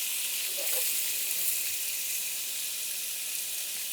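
Onions sizzling in a pan next to chicken on lowered heat, a steady bright frying hiss that stays even and close, with a brief soft clatter early on.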